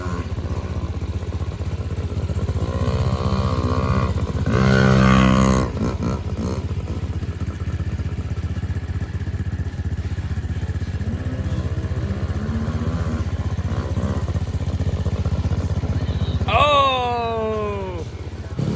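A dirt bike rides a muddy backyard track, its engine droning and revving steadily throughout, loud and near, with people talking and calling out over it.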